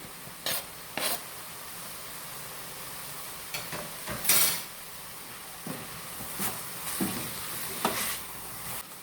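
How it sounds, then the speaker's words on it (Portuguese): Ground meat sautéing in a pan with a steady low sizzle, broken by several sharp scraping stirs at irregular intervals, close up. "vou deixar essa carne dar uma refogadinha"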